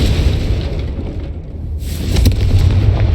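A Confringo blasting spell from Hogwarts Legacy explodes in a loud, rumbling boom, a deep burst that swells again near the end, with no voices over it.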